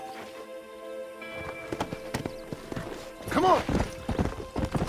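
Horse hooves clip-clop steadily during a ride in the video game Red Dead Redemption, a horse snorts or whinnies partway through, and someone briefly shouts over the hoofbeats.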